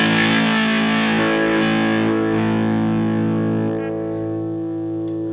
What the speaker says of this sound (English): 200 to me gives you something of that quad box kind of low boom.